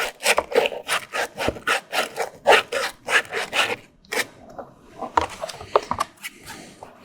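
Sandpaper rubbed over the edge of an offroad accessory mount, close and crisp, in quick repeated back-and-forth strokes with short pauses between bursts.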